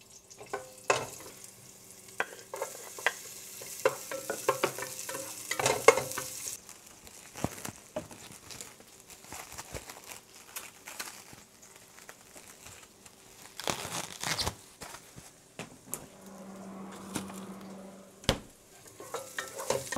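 Garlic and onion sautéing in a pan as the base for chicken pochero, with steady stirring scrapes and light sizzling, scattered utensil knocks and a brief louder burst of frying near the end.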